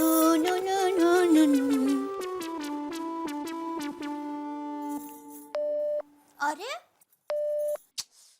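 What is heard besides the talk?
telephone busy signal on home phone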